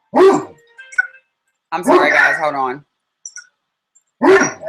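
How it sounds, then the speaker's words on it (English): A Great Dane barks indoors, a few deep loud barks spaced apart with gaps of silence, while a person speaks briefly between them. "My Great Dane seems to be barking at something."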